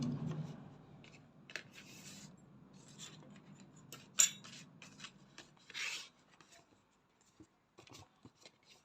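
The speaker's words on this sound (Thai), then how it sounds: "คลายน็อตออกมา แล้วเราก็ พลิกตัวนี้ออกมาก่อน" Nut being loosened on the rotary hook of an industrial sewing machine: faint scattered metallic scrapes, small clicks and rubbing handling noises in a quiet room, with one sharp tick.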